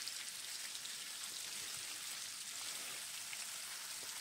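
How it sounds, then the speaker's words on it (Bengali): Paneer cubes lightly frying in oil in a kadai for palak paneer, a steady soft sizzle with fine crackle, even and continuous without pauses. "এবার আমি পনিরগুলোকে ভেজে নিলাম।"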